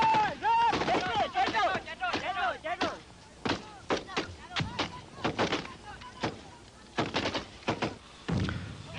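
AK-47s and rocket launchers fire from a group of soldiers in a battle at Quang Tri during the Easter Offensive in Vietnam: dense, loud overlapping bursts and heavy thumping blasts, continuous and rhythmic, with a voice over parts of it.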